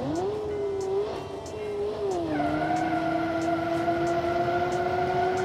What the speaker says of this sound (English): Sounds like a Ferrari actually, a Ferrari engine, because this is a flat plane V8 engine.